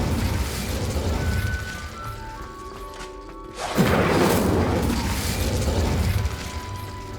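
An Incendio fire spell erupts in Hogwarts Legacy as a sudden whooshing burst of flame that swells partway through and stays roaring loudly, after a stretch of quieter mechanical clicking and tonal game sounds.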